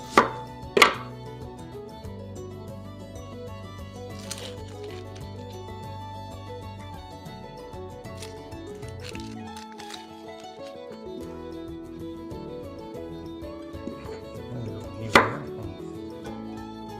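Onions chopped with a knife on a board for a Filipino lechon kawali recipe, a fast even run of close knife taps with a few louder knocks near the start and end.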